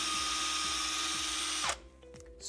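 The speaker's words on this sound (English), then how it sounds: "we get the drill, and we basically drill" A power drill whirs steadily and close up, boring into a wastewater pipe while a reverse osmosis water filter is installed, then cuts out abruptly near the end, leaving a quiet, faint room.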